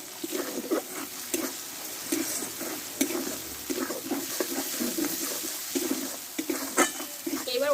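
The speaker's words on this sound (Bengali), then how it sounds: "মশলাটা ভালোভাবে কষে নিয়েছি তেলটা ছেড়ে দিচ্ছে" Spice paste fries in oil for a Bengali potol curry, with a gentle sizzle under repeated scraping and stirring strokes against the pan and an occasional sharper clink, faint talk now and then.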